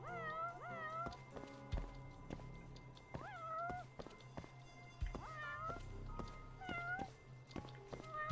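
Cats in a game meow repeatedly, a string of short bent cries spread across the stretch, some overlapping as if from two animals, over steady hum with scattered thumps and footsteps.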